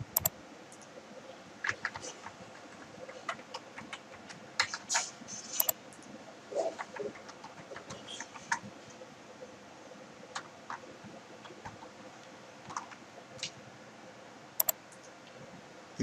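Quiet, irregular clicking of keys on a computer keyboard as a password is typed, in short bursts with pauses between them.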